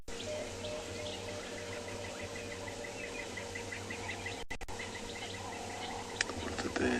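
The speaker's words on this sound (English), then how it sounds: "All of the birds calling." Birds call at sunrise on a Tswalu safari, faint chirps and tweets repeating from a distance over a steady low rumble of background noise, with a couple of brief knocks near the end.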